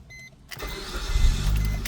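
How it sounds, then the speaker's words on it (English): A 2012 Suzuki SX4 with 103,000 miles and a noise from the front starts up: a brief starter crank, then the engine catches and settles into a low, steady idle close by. "Let's turn on the car."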